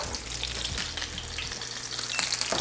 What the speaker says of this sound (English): we're just gonna get a nice sear on both sides